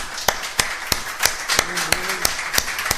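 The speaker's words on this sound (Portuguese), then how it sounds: "Palmas para Jesus, aleluia." An evangelical church congregation claps hands in a steady, brisk rhythm, sharp evenly spaced claps over a noisy hall, with a brief voice sounding faintly underneath midway.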